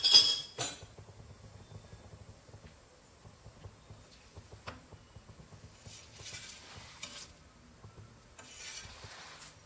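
Radish curry being stirred in a pan, with soft scraping and occasional faint clinks of a utensil against the metal, quiet and close with no voices.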